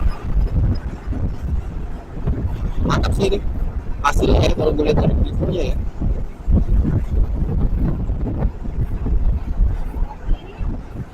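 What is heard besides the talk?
motorcycle ride recorded with Brica B-PRO 5 action cam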